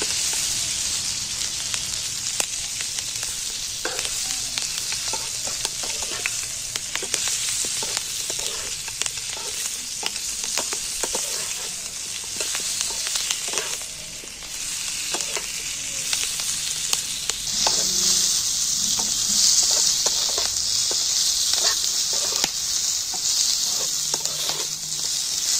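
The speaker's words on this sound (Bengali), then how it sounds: "তেলের মধ্যে এইটাকে একটু হালকা করে ভেজে নেব।" Capsicum, tomatoes and green chillies fry in hot oil with a loud, steady sizzle. Crackles and pops run through it the whole time, with brief stirring scrapes and no voices.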